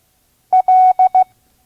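Morse code letter L sounds as clean, loud tone pulses, one short, one long, then two short, in a crisp rhythm followed by silence.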